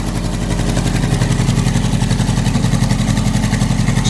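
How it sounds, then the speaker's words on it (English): A Ford Escort MK1 two-door engine, freshly fitted with a new fuel pump and restarted after years off the road, idles steadily and loudly up close with an even, throbbing low rumble and no talk. "It's running on its own now with a new fuel pump."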